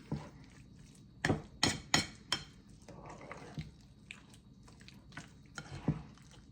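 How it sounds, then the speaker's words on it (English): Ingredients being mixed by hand in a bowl, with a few sharp clinks and knocks against the bowl followed by softer, scattered squishing and tapping at a quiet, close level. "Mix all that in."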